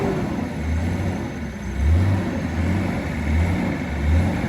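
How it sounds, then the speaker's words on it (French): A BMW 525 TDS diesel engine drones and rises in pitch as the car accelerates on a road test, with steady road rumble throughout and no voices. "Accélère, laisse pas le moteur descendre."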